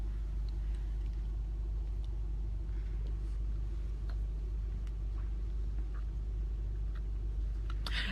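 Inside a parked car, a constant low engine and road rumble hums steadily with a few faint clicks and rustles, and no one speaks.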